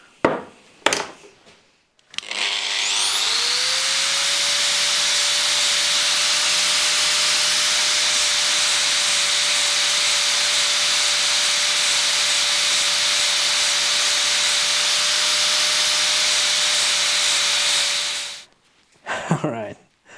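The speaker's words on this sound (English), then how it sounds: "I'm thinking I'll just grind the head of this back down into a nice shape." A grinder wears down the head of a bolt from a Ford backhoe, one long sustained whine lasting about sixteen seconds, loud and close, with brief handling sounds before and after.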